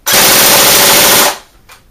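An Elite Force IWI Tavor TAR21 blowback airsoft electric rifle fires one loud, close full-auto burst of rapid mechanical shots lasting just over a second, followed by a short clack.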